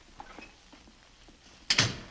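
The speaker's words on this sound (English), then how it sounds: "Benji waited for the door to slam." Inside a house, a single loud door slam cracks sharply near the end after a stretch of near silence.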